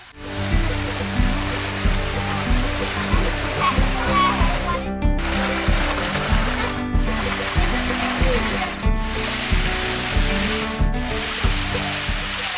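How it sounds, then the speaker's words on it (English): Steady rushing water from a small waterfall in a Hmong hill tribe area near Chiang Mai pours continuously, with a rhythmic mechanical hum and children's voices mixed in the background. "you can also find a small waterfall, and its water is so cool."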